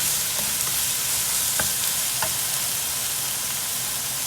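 Fried rice with fresh garlic is pushed lightly around a hot pan, giving a steady close sizzle and crackle with a few soft scraping stirs, and no talking.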